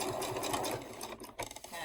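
A sewing machine stitches a cut-and-sew fabric gift bag, a close, steady rapid whirring run that slows and stutters briefly near the end.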